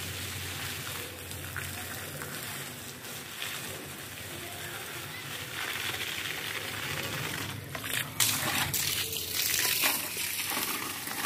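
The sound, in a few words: watering plants with a pump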